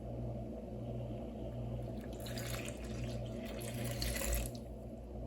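Room-temperature water pours briefly into a bowl of bread dough ingredients, a soft splashing stream over a steady low hum in a quiet room.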